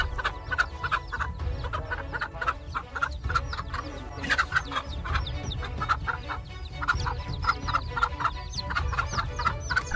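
A mother hen guarding her chicks against a king cobra keeps up rapid, insistent clucking in close, repeated bursts over a busy outdoor background.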